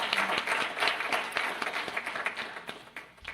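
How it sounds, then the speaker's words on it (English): An audience at a presentation breaks into a round of applause for the person running the computers, a few seconds of steady mid-level clapping with individual claps standing out. "give him a round of applause"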